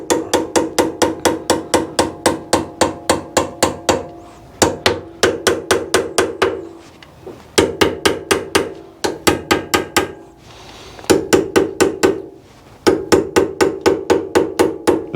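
A hammer taps lightly and rapidly around the edge of a metal workpiece being turned, in sharp ringing bursts of a dozen or so strikes separated by short pauses, close and loud.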